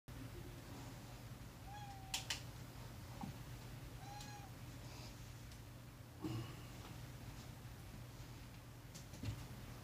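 A cat meows softly several times in a quiet room, short rising-falling cries spaced a couple of seconds apart over a low steady hum, fairly close but faint.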